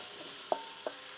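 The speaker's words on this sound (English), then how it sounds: "You hear that wonderful sizzle." Sweet peppers stir-fry in smoking-hot rapeseed oil in a wok at an outdoor grill, a steady hissing sizzle with two soft taps from stirring.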